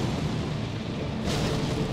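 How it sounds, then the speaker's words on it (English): A deep rumbling explosion bursts during a Black Flame boss fight in Elden Ring, a dense, loud roar that swells with a hissing burst partway through. "Oh, there's an explosion."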